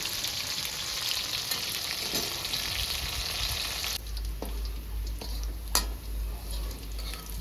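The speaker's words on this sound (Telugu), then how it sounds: "మీడియం ఫ్లేమ్ పెట్టుకొని మంచిగా ఫ్రై చేసుకోవాలి." Chicken egg fried rice frying in a pan over a medium flame gives a steady, close sizzle, with a few brief clinks and stirring scrapes in the second half.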